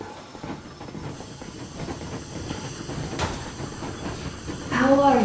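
Steam train chugging along in the video game Metro Exodus, a continuous rumble with hissing steam and rattling wagons, building slightly louder toward the end, with voices coming in at the close.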